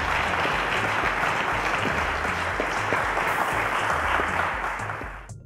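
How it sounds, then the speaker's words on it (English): Sustained audience applause at a televised quiz show for young contestants, an even wash of many hands clapping that holds steady and then tapers off at the close. "A round of applause to our guys."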